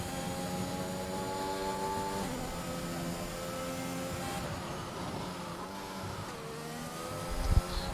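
A McLaren Formula 1 car on a flying lap around the Marina Bay street circuit in Singapore, its engine a steady high-pitched drone that shifts gradually in pitch, heard alone without talk, with a brief thump near the end.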